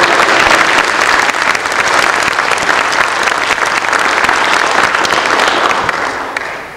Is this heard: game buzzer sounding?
no